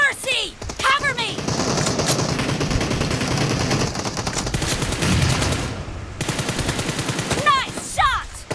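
Sustained automatic gunfire from a shooting video game roars for several seconds, loud and continuous, with brief quieter gaps and chirpy game sound effects at the start and end.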